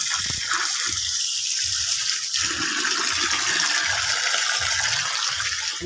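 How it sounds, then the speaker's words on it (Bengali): Cleaned bata fish are rinsed under steady running water in a village kitchen, a continuous close gush with rhythmic splashing and sloshing as the fish are rubbed and turned. "এখন আমি পরিষ্কার করে ধুয়ে নিচ্ছি।"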